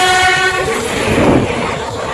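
A passenger train rolls along loudly with its horn sounding a sustained tone at first, then fading into the rumble and rattle of the carriages.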